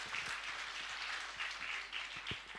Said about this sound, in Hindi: एक बार ताली बजा के बता दीजिए।